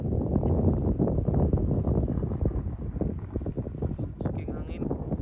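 Gusty wind buffets the microphone with a loud, continuous rumble, while people talk faintly underneath, on the Shoal Harbor Lookout Trail in Newfoundland and Labrador, Canada.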